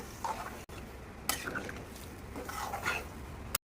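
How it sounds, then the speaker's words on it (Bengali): Mutton stirred in a pot just after stock is added, a spoon clinking and scraping against the metal in a few uneven bursts over a soft simmer, close up and without talk. "মাটনের স্টকটা দিয়ে দিয়েছি। একটু নাড়াচাড়া করে"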